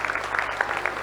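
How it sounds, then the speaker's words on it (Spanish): Scattered clapping from a church congregation for mothers, a quick patter of many hands that stays fairly soft and even throughout the short moment. "Fuerte el aplauso para todas las mamás"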